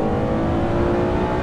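A Ferrari 599 HGTE engine pulls hard under acceleration, its loud, steady, harmonic-rich roar heard close from inside the car with no talking.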